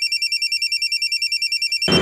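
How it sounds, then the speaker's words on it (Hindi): A mobile phone ringtone plays loud and close, a fast electronic warble pulsing evenly for about two seconds before cutting off abruptly into a brief rustle. "अब ये किसका फोन आ गया?"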